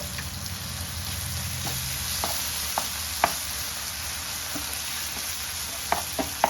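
Small fish fry in a pan with coconut paste, giving a steady low sizzle broken by scattered clicks and light scrapes as the mixture is stirred, close and unaccompanied by speech.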